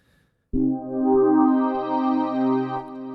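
An FL Studio synthesizer sequence preset swells in with a bright, resonant, slowly shifting timbre over a low bass, sustaining for a few seconds with gentle pulsing movement.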